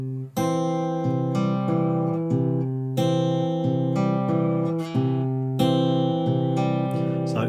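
Fingerstyle acoustic guitar playing a steady repeating pattern of single bass notes alternating with pinched pairs of higher strings, the pinch falling on the second beat, clear and close with notes ringing over each other.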